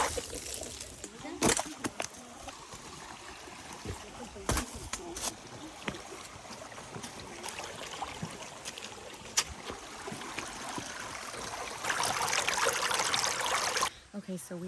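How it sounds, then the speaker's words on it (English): Palo Maria waterfall and river near Puerto Vallarta: a steady rushing wash of falling water heard from nearby, with footsteps, rustling and occasional sharp knocks on top. "We can hear the waterfall."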